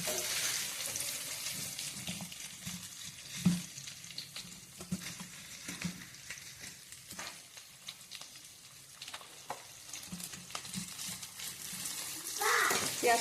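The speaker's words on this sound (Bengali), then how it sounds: "পেঁয়াজটা হালকা ফ্রাই হয়ে যাচ্ছে।" Onions frying in a pan for lunch, a continuous soft sizzle with occasional stirring clinks and scrapes, moderately close and steady throughout, swelling slightly at the end.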